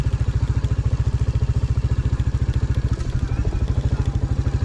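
A Royal Enfield Classic 350 motorcycle rides off-road in second gear at low speed, its single-cylinder engine thumping loud, steady and even from close by, with a little mechanical clatter over the beat.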